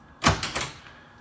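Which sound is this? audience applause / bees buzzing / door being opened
door being opened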